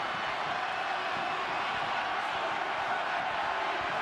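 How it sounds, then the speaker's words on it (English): Rugby crowd at Stadium Taranaki during a World Cup match between Ireland and the USA, a steady wash of distant roaring and shouting that stays constant and fairly loud throughout. "The crowd getting vocal here at Stadium Taranaki"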